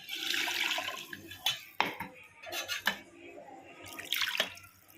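Water poured into a cooking pot while making pepper rasam, a steady close splashing rush with a few metallic clinks of the pot and utensils, and a brief gurgling pause midway.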